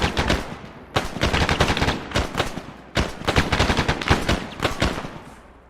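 Dense bursts of automatic and single-shot gunfire in Arma, a military combat game set in Chernarus, loud and close in rapid overlapping volleys that repeat in clusters with only brief pauses, no speech heard.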